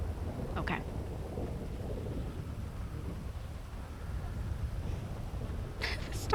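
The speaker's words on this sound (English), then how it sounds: "The storm is so loud." Steady rain with low rolling thunder from a thunderstorm in the video game GTA V, a continuous loud wash of noise that fills the whole stretch without a break.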